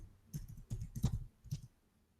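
Quick, soft key clicks tap out in a short irregular burst on a computer keyboard, close and quiet with brief pauses between strokes.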